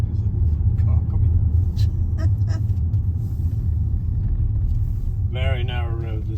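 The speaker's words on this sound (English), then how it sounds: "he's having to reverse now because the car coming" Car engine rumbling low and steady as it reverses along a very narrow Welsh country road near a passing place, loud and continuous inside a vehicle, with a voice speaking over it.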